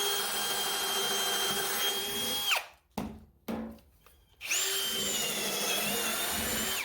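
Ryobi brushless cordless drill whirring at high speed, stopping briefly for a couple of short bursts, then spinning up again steadily.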